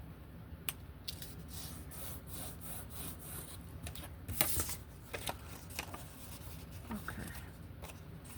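Sheets of 12x12 paper are lined up and folded for a mini accordion booklet, giving close-up soft rustles, creasing rubs and a few sharp crinkly taps against a quiet background.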